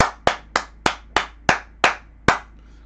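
A church congregation applauding in worship, sharp, evenly spaced claps in a steady rhythm, about eight strong beats, close and loud with no voices over them.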